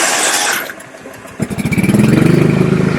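A small engine on a belt-drive machine turns over and catches with the choke on, a brief cranking chug followed by a loud, steady running putter close by.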